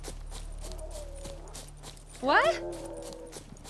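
A horse's hooves clip-clop at a walking pace in the video game The Witcher 3: Wild Hunt. The steady, soft hoofbeats run under game ambience, and a person briefly speaks.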